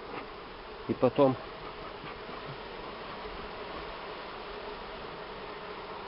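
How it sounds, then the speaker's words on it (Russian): Honey bees buzz in a steady, faint drone while being shaken from a hive frame into a trap, with a brief spoken remark near the start. "загоню туда пчел сейчас, они пойдут"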